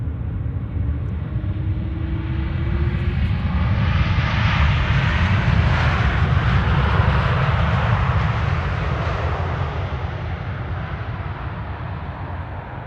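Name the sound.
KLM Boeing 787-10 Dreamliner arriving at Amsterdam Schiphol Airport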